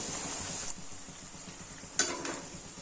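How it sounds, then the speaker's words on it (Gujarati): Triangle-shaped methi puris deep-frying in oil over a medium gas flame give a steady close sizzle throughout, with a brief clink of a utensil near the end. "મીડિયમ ગેસની ફ્લેમ ઉપર આપણે આ ટ્રાયેંગલ શેપની બધી પૂરી છે તે તળી લેશું"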